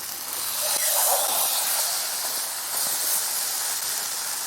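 Thick, salt-crusted steak about 1.25 inches across sizzling on a camp stove on a backpacking trip on the Peninsula Trail, Indiana, a steady broad hiss close by that swells slightly and holds for several seconds with no talking.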